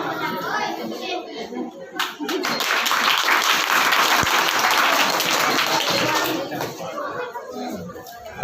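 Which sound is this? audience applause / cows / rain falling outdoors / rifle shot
audience applause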